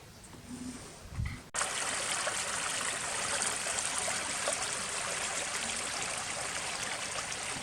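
Creek water rushes steadily during a backcountry creek crossing, a loud close broadband gush that starts abruptly after a brief quieter moment with a faint thump and continues unbroken.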